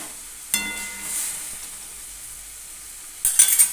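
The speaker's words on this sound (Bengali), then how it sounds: "পটলগুলো দিয়ে দিলাম" Pointed gourds drop into simmering water in a wok, giving a brief splash and sizzle near the start, then a soft steady hiss and bubbling, with a louder clatter of utensils at the end.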